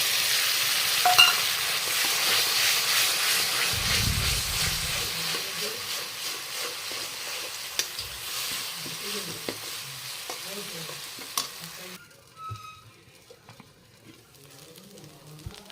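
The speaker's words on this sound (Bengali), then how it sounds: "পেঁয়াজটা লাল করে ভাজা হয়ে গেছে এবার দিয়ে দেবো আদা রসুন কাঁচামরিচ আর পেঁয়াজ বাটাটা" A paste of ginger, garlic, green chili and onion sizzles and fries in a pan over browned onions, a steady broadband hiss with stirring scrapes that drops in level near the end, with no talk over it.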